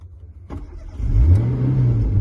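A Tofaş car engine turns over and catches, then revs up into a rising, throaty roar that holds close and loud for about a second.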